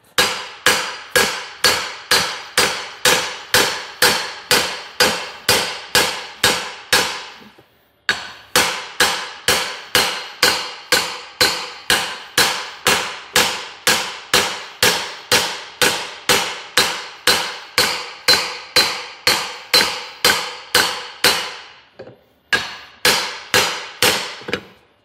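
A hammer strikes an aluminum gland clamped in a vise on a solid table, over and over in a steady rhythm, loud and close with ringing metallic hits; a short pause splits the run of blows.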